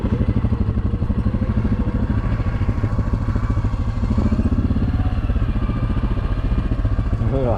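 An ATV engine drones loud and steady while riding a hilly, whooped-out trail, its rapid pulsing exhaust filling the whole stretch up close.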